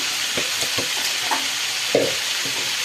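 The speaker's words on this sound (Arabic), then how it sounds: "هنبدأ نقلب فيه لغاية ما يتشوح كله مع بعض." Rice being stir-fried in a pan with cumin and a pinch of sugar, giving a steady soft sizzle with a few scraping stirs and one louder clatter near the end, no talking.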